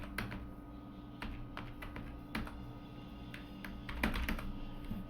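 Keys on a computer keyboard are tapped while entering coordinates into AutoCAD, a quiet, close run of scattered clicks with irregular pauses and one denser burst near the end.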